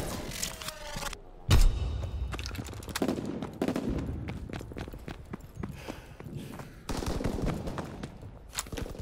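World War II-era gunfire in Call of Duty: WWII, with bursts and single cracks of rifle and machine-gun shots, some loud and close, others scattered and distant, interspersed with clattering footsteps and movement.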